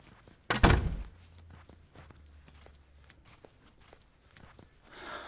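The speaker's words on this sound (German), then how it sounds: "Mach die Tür zu." A door thuds shut once, a loud single slam near the start of a German radio drama scene, followed by soft scattered footsteps or shuffling and a faint rustle at the end.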